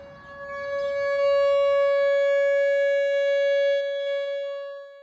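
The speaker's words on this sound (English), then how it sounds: "Outdoor warning sirens like this one play an important role when it comes to severe weather." An outdoor warning siren of the kind sounded for severe weather and tornadoes holds one steady, loud wailing tone that swells in over the first second, sustains, and fades slightly at the end, with no voices.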